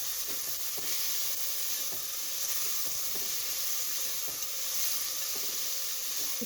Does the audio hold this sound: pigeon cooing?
no